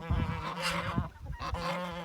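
Geese kept as free-range farm birds honk in loud, overlapping calls, a burst near the start and another toward the end, with nasal, harmonic tones close by.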